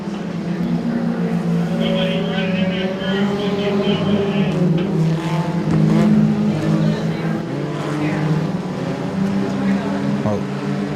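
Compact race cars competing at the King of Compacts event at Moler Raceway Park, engines droning and revving continuously at close range with tires squealing, while an announcer talks over the racing.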